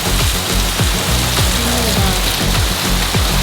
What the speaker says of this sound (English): I just hear rain start absolutely pouring